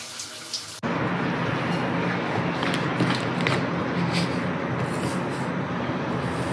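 Water abruptly starts running for a shower and then pours in a steady, loud, continuous hiss nearby for several seconds, with no talk over it.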